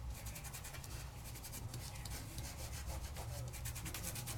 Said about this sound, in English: I want to give it a nice burnish just to make sure that my glitter is all cemented down